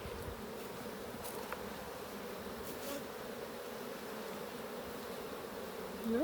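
Dense, continuous buzzing of many bees inside a hive, close and steady throughout, with a brief louder swell at the very end; no talking.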